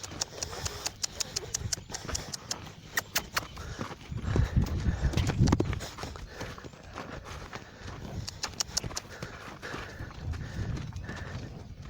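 A horse steps sideways during groundwork training on foot, its hooves clip-clopping in irregular, fairly close beats with a louder scuffle partway through, amid light ambient noise.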